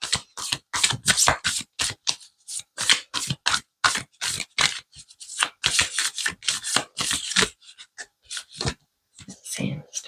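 An Archetypes tarot deck by Kim Krans is shuffled in close, rapid bursts of papery riffling and slapping cards, quick repeated strokes running almost nonstop, with brief pauses near the end.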